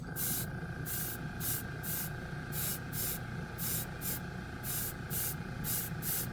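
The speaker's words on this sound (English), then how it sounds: "Let's spray him." An airbrush sprays Airbeast Super Chrome paint onto a figure in short, rhythmic hissing bursts, a dozen or so quick pulses over a steady compressor hum.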